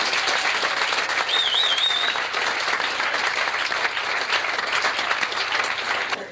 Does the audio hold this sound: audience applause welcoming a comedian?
yes